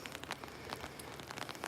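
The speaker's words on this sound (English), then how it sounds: "Oh, now it's barely raining." Light rain falling in a valley, pattering softly and steadily on surfaces with scattered drop ticks over a constant wash, brief and fairly close, with no voices.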